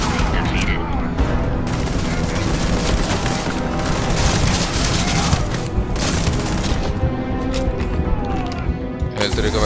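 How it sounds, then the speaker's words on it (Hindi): Rapid gunfire and grenade blasts from combat in the video game Starfield, a dense, loud, continuous barrage of shots and booms throughout. "हम भी फेंकते हैं बेटा ग्रेनेड, ये लो।"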